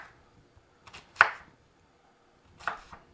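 A knife chops an onion on a cutting board for chicken fried rice, giving a few sharp, sparse thunks with pauses between them, close and fairly quiet.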